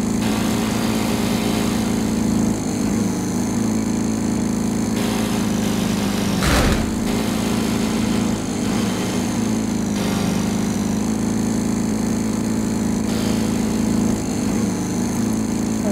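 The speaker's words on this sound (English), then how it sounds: "Does the lawnmower just go straight through that hedge?" A lawn mower engine runs in a video game, a steady mid-pitched drone that continues loud and unbroken the whole time, with one brief rough burst midway.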